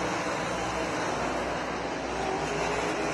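Race cars roaring around Montpelier Motor Speedway during a Border Wars 3 feature, a dense, steady wall of engine and crowd noise with no breaks.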